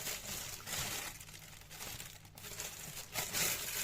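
Plastic freezer bag handled and knotted shut during fish preparation, close crinkling and rustling bursts that come and go, fairly quiet and without speech.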